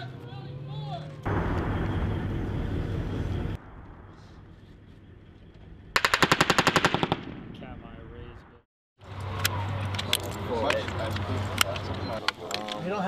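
Machine gun fire from U.S. Marines in urban raid training: a loud, rapid burst of shots in the middle, with heavier blasts and muffled battle noise before and after, and shouted radio-style talk between soldiers.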